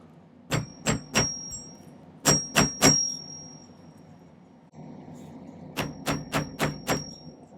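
A silver ring band for an agate ring being hammered, with three bursts of sharp metallic strikes in quick clusters separated by pauses, close and clear with no talk.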